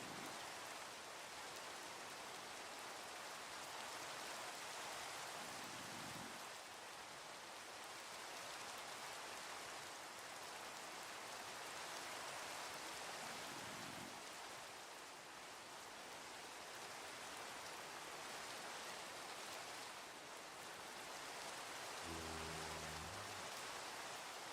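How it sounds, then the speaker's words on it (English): Steady rain falling in Minecraft, a continuous soft hiss of drops that stays even throughout, faint and distant, with a few low thuds of game sounds underneath. "It's raining."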